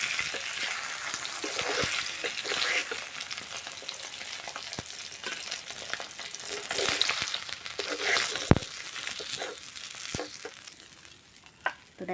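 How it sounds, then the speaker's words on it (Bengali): A fish head fries in oil with a close, steady sizzle, light crackling and occasional sharp pops or scraping stirs, and no one speaks over it. "তো দেখো মাথাটা এবার আমি ভেজে নেব।"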